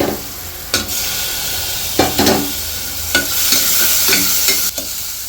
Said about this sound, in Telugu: కొంచెం ఆయిల్లో కొంచెం ఫ్రై అవ్వనివ్వాలి క్యారెట్ని ఇంకా పొటాటోని